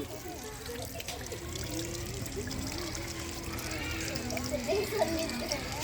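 Tap water trickles and pours steadily during a handwashing demonstration at a village school event, a continuous low splash running under people talking.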